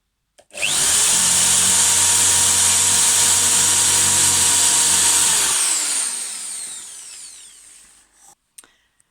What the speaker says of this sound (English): I've done the pilot holes all the way round and then screwed in to attach the battens.